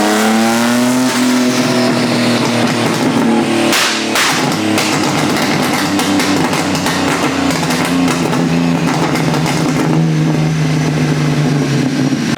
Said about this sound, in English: Let me show you like the pops and bangs.